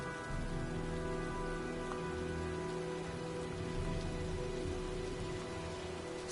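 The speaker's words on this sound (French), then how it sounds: "Je crois qu'un orage se prépare." Steady rain from a brewing storm in the video game Heavy Rain, a constant dense patter on surfaces with a low ambient hum, continuous and even throughout with no voices.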